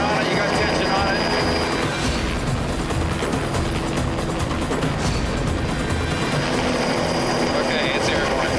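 A helicopter hovers overhead while lifting a 2,500-pound sling load, its loud rotor chop and engine roar continuous and close, with voices talking over the noise.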